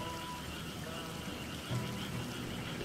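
Rain falling in the video game Sakuna: Of Rice and Ruin, a soft, steady hiss of rainfall with a faint low rumble, continuous and unbroken throughout.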